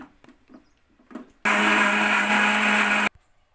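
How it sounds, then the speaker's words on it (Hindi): A mixer grinder blends curd with curry leaves into chutney, starting abruptly with a loud, steady high-pitched whir that runs for about a second and a half and then cuts off, after a few soft kitchen sounds. "अब इसको मिक्सी में ग्राइंड कर लेते हैं"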